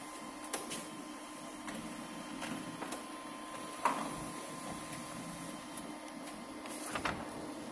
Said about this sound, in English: See, the printer is working.